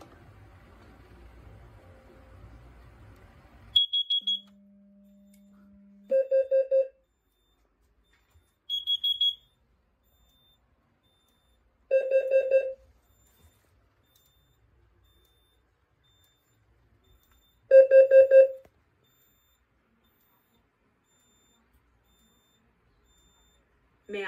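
Notifier NFS2-640 fire alarm system sounding carbon monoxide detector alarm tones: a handful of separate bursts of sharp electronic beeping spaced through near-silence, each short and loud, heard alone without talk.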